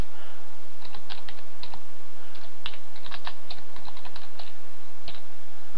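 Typing on a computer keyboard: a steady run of quick, irregular key clicks and taps at close range, with brief pauses between bursts and no talk.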